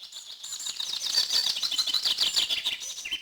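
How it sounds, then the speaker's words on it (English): Story sound effect of two white doves, turtle doves and a crowd of small birds arriving at a kitchen window: a continuous flurry of fluttering wings mixed with bright chirps and tweets, close and busy throughout. "there came to the kitchen window 2 white doves, and after them some turtle doves, and at last a crowd of all the birds of the sky, chirping and fluttering"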